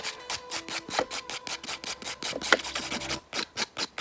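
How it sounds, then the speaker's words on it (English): A nail file rasps back and forth across a fingernail in quick, regular strokes, close and fairly quiet with brief pauses between bursts. "I'm going to aim my nail file there"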